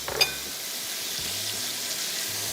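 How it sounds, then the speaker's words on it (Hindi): Ginger, garlic, onion and tomato frying together in a pan, a steady close sizzle throughout with a brief clink of a utensil at the start and soft stirring scrapes. "अदरक, लहसुन, प्याज, टमाटर, ये 4 चीज़ें अभी तक शामिल हुई है, और ये चारों चीज़ों की अब थोड़ी सी बुनाई होगी।"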